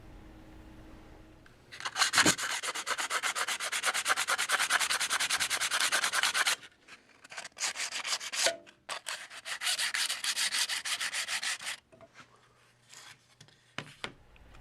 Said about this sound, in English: I'm going to sand it down to get a smooth, flat surface